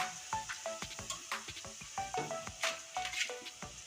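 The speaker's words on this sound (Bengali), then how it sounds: "পেঁয়াজটা আমি প্রথমে লাল করে ভেজে নেব" Onions sizzling and frying in a pan for a soybean and potato curry, a steady crackle with repeated stirring scrapes and clinks, close and moderately loud with no talking.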